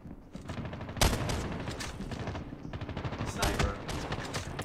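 Outlaw sniper rifle shots in Call of Duty Mobile firing during a match, with a sharp loud crack near the start and more repeated gunfire bursts following over steady game noise.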